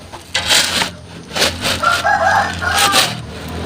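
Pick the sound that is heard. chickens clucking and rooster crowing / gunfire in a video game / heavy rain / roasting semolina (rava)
chickens clucking and rooster crowing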